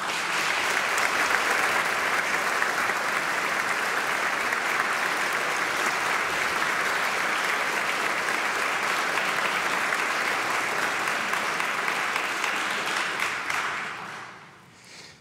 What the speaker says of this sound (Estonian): teeksime ühe sellise suure, tugeva aplausi kõikidele õppejõududele ja lõpetajatele